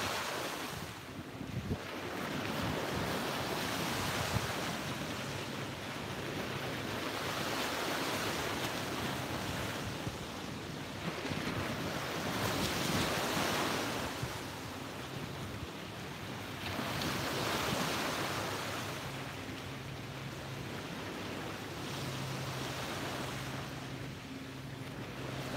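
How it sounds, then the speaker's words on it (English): Ocean surf washes onto a beach at sunrise in slow, swelling surges, a steady nearby roar of breaking waves with wind buffeting the microphone and no voices. "soak in the sound of these waves"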